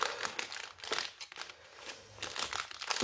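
Crinkly clear plastic packaging of store-bought keychains being unwrapped, with irregular rustling and crackling bursts close by and no talking.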